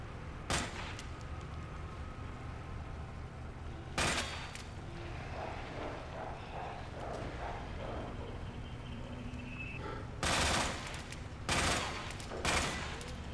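Gunfire in Resident Evil 2 comes as several sharp, loud bursts: one early, one around the middle and a cluster near the end, separated by quieter ambient game sound.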